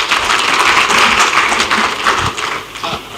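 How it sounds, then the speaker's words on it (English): Audience applause for presenters at an education conference in Kenya, brisk continuous clapping from a seated crowd, fairly close and loud, tapering slightly at the end. "A round of applause for our presenters, please."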